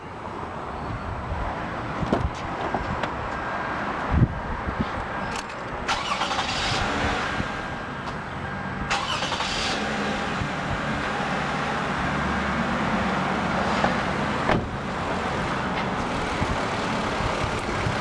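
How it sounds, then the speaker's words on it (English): A 2007 Toyota Avalon engine cranks and catches, then settles into a steady idle that rumbles on, close and fairly loud, with a few knocks. "now I'm going to go ahead and start the engine up"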